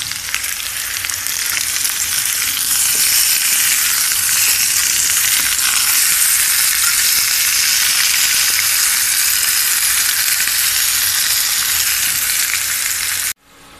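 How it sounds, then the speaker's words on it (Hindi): Cut potatoes fry in leftover oil in a pan, giving a loud, steady sizzle and crackle that runs unbroken for most of the span before stopping abruptly at the end. "ये जो हमारे पास बचा हुआ तेल है, ये हमारे पास रखा कटा हुआ आलू है, और इस आलू को भी हम फ्राई कर लेंगे।"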